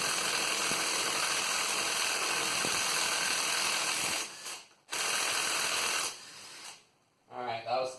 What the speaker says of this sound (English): that was tough for the little impact gun